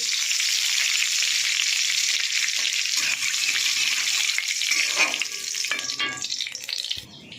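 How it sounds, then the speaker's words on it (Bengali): Shrimp and black cumin fry in oil with a loud, continuous sizzling hiss, heard up close and alone, which thins and crackles more sparsely near the end. "চিংড়ি মাছটা ভাজা হয়ে গেছে, কালো জিরে হয়ে গেছে আমার।"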